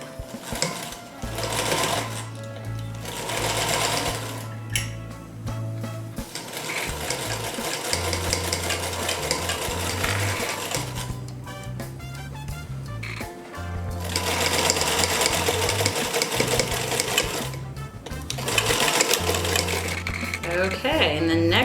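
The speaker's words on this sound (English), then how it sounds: "each time just making sure that elastic is getting sewn in" Sewing machine stitching elastic into a fabric medical face mask, a steady loud motor drone in bursts with brief pauses between seams.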